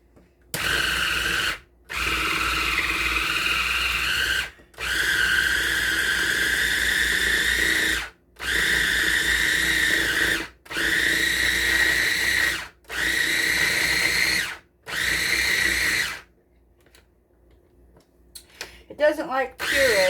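KitchenAid 5-cup food processor chopping butter and flour: about six loud whirring motor bursts, each a couple of seconds long with short pauses between, followed by quiet and a few clattering handling sounds.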